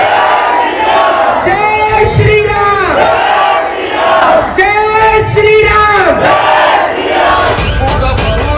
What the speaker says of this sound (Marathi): मैदान घोषणांनी दणानलं